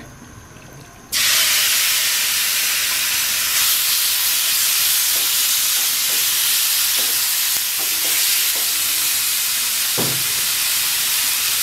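Marinated chicken hits a hot pan with a teaspoon of oil, bursting into a loud, continuous hissing sizzle after a brief quiet start, with occasional stirring knocks.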